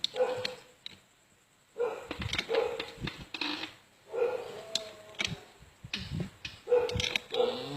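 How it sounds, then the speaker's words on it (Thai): A dog barks in short bursts, a few sharp yaps separated by quieter gaps, fairly close, with some background clatter. "จะเห่าอะไรวะ"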